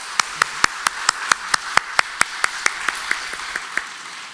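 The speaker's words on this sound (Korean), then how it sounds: "한번 우리 박수해 주시면 고맙겠습니다." A church congregation at a Korean Sunday service claps in unison, sharp, steady, evenly spaced beats that stay strong and tail off slightly near the end.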